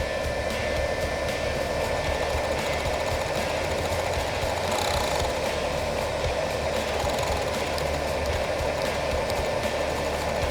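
Wire feeder motor of a welding machine running, a steady whirring hum held at even volume for the whole stretch, close by and with no speech.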